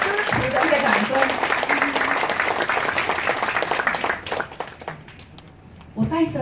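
Applause from the audience at a club's executive committee inauguration ceremony, honouring the club's directors: a loud wash of clapping mixed with voices that tapers off after about four seconds, leaving quieter murmur and a brief final swell.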